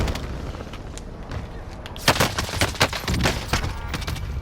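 PKM machine gun fire in a first-person video game: bursts of sharp shots crackle after a quieter lead-in, stacking into irregular rapid volleys at moderate distance.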